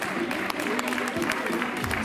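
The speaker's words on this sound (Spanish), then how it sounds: "Un aplauso." A crowd applauds at a youth girls' category award ceremony of a San Silvestre race in Lodosa, with steady clapping lasting throughout over faint voices.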